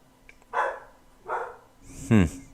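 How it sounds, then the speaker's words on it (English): A dog barks three times, close and fairly loud, in separate spaced bursts with short pauses between, the last one the strongest, in an indoor room with no talking. "Every single time I get on air, the dog goes crazy."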